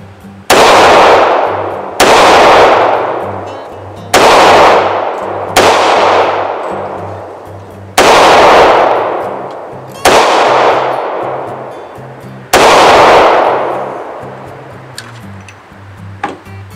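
Seven sharp, loud shots from an HK USP .40 pistol, fired one at a time at irregular intervals of about one to two seconds, each with a crisp crack and a quickly decaying ring, nearby and with no talk.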